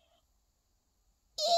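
A person imitates a cat's meow once, loud and close, after a near-silent pause, while reading a children's story aloud.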